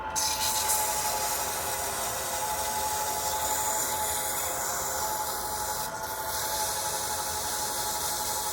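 Sandpaper grit 150 held against a spinning wooden pen blank on a lathe, a steady continuous hiss and rub with a faint motor whine underneath, close and unbroken throughout.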